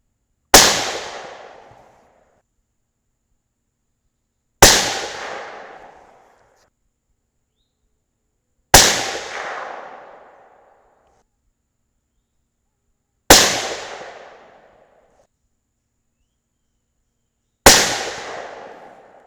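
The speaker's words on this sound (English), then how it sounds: "All right, 5 more shots." Five sharp rifle shots from a T/C Compass chambered in 6.5 Creedmoor, fired one at a time at roughly four-second intervals, each a loud close crack with a short decaying tail and silence between.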